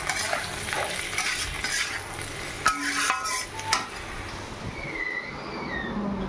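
Spiced chaat potatoes fry in a pan at breakfast with a steady sizzle, joined by scraping stirs and a few clinks of utensil against metal.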